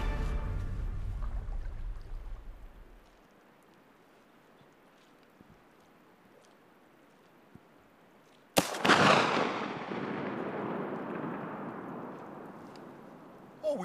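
A single muzzleloader rifle shot at a grizzly bear outdoors, one sharp loud blast midway followed by a long decaying rumble over a quiet background.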